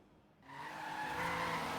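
Porsche 944 Turbo tuned for top speed in Forza Horizon 3, its engine rising into a loud, steady high-revving roar with a hint of tire noise, building from quiet over a couple of seconds.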